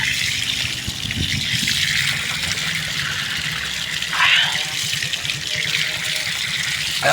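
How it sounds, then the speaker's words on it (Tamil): Steady running water trickles and splashes continuously from a pipe, close and fairly loud, with faint voices in the background. "பைப் இருக்குது அது வாய்க்கா தண்ணியோ எந்த தண்ணியோ தெரில"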